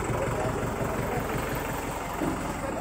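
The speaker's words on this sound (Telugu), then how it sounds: "ఇంజన్ తిరిగింది" A tractor engine with a trolley attached, hauling a Ganesh idol, runs at a steady low throb. The loud, continuous rumble is close by and fills the whole moment without a break.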